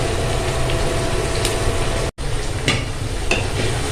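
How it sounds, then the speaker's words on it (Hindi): Ginger and garlic frying and being stirred in a pan for nihari, a steady close sizzle with scraping stirs throughout and one brief cut-out midway. "अब हमने इसमें डाली ये अदरक और लहसुन। इसको अभी भूनूंगी मैं अच्छी तरह।"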